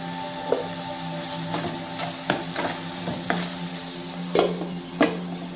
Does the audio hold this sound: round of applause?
no